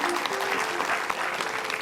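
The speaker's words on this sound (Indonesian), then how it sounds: "Kita kasih tepuk tangan buat Bang Haji Doni." Studio audience at an Indonesian television talk show breaks into steady, dense applause, a continuous wash of clapping filling the room with no pauses.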